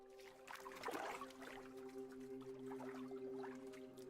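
Soft bubbly blooping and gentle watery trickles of a boat in water in the video game Bitcraft Online, over a steady low electronic hum, with a steady tonal drone underneath.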